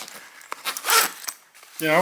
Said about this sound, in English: You got a nice carrying case. Nice zippers. You get 2 zippers.